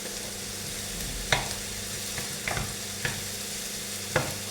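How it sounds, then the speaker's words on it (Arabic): Vegetables and canned tomato frying in a pan, a steady soft sizzle close by with several sharp scrapes and taps of a utensil stirring at irregular intervals, no talking. "راكم تشوفوا كيفاش راني نقلي الخضرة تاعي"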